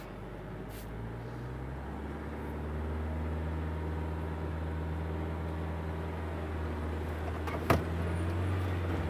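An Iveco Daily 4x4 motorhome grinds up a slope in low-reduction first gear off-road, a loud continuous engine drone and drivetrain whine holding steady from inside the cab, with a brief click partway through.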